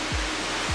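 Aconco waterfall at Tetela de Ocampo, Puebla, Mexico, pouring as a dense, steady broadband rush of falling water, loud and unbroken with a low rumble beneath.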